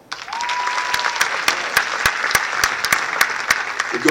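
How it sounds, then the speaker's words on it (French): Audience at a live comedy show breaks into steady, loud applause, a dense wash of clapping that fills the whole stretch with sharp individual claps standing out, plus a brief whistle near the start. "Par applaudissement."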